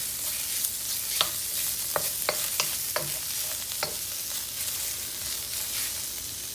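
Ground pork stir-fried with soy sauce for Taiwanese spring roll filling, a constant sizzle with several sharp spatula scrapes and clacks against the pan, close and loud with no talking.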